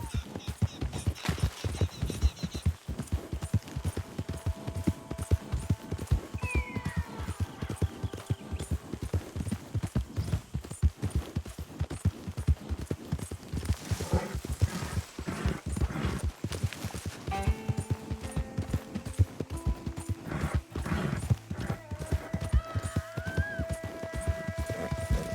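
A horse gallops steadily in Red Dead Redemption 2, its rapid hoofbeats pounding in an even rhythm throughout, with a brief whinny and faint game ambience and tones drifting in.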